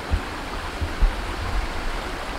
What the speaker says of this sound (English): Well, now we're actually at the River Soar.